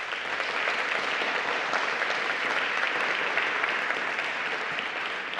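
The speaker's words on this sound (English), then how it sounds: "A nice round of applause for them." A summit audience gives a round of applause, a steady, even wash of many hands clapping for about five seconds, moderately loud and without speech.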